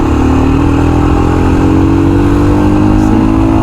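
A Royal Enfield Scram 411 motorcycle accelerates steadily, its engine note climbing in a continuous loud drone with a rising pitch, close and unbroken throughout.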